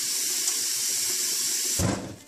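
Cold water runs from a kitchen tap in a steady hiss for cooling hot boiled potatoes, then the flow changes near the end as the stream strikes something lower and fuller.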